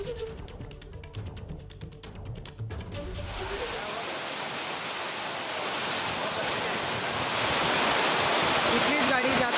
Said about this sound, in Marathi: वांगणी भागात मोठा पाऊस झाला